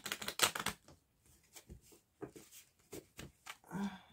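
Oracle cards are riffled and shuffled by hand in a run of quick papery taps and flutters, close and fairly quiet, with short pauses between bursts.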